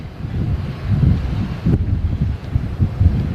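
Wind buffets an outdoor microphone on a high vantage point near Starbase, producing low, uneven rumbling gusts that rise and fall over a few seconds.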